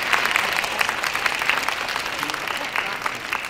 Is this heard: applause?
yes